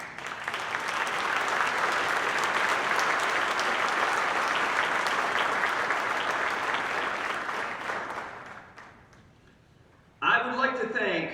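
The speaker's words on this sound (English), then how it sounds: "please give them a round of applause" Sustained applause from an audience at a county government event honoring local officials, loud and steady for about eight seconds before fading out; a voice begins speaking right after.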